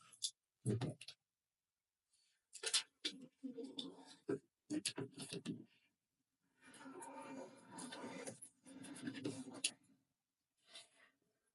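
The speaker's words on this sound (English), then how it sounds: "you can score the plastic with the scissors, like so" Scratchy scraping and clicking of scissors scoring plastic in short bursts, near and fairly quiet, with brief pauses between strokes.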